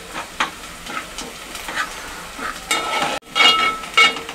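Onion and garlic sizzle and crackle in hot oil as a spoon stirs through them, with scraping bursts and louder hissing flare-ups toward the end, close and without speech.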